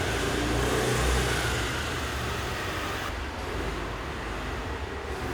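A steady motorcycle engine drone runs continuously, a low rumble with broad hissing noise, fairly close and constant for several seconds.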